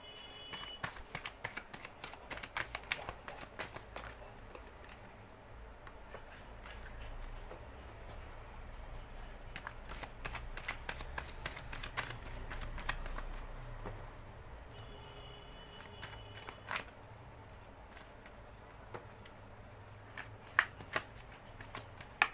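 Tarot cards are handled and shuffled for a reading, with soft riffling and flicking bursts that come in irregular clusters, close and quiet, and no talk.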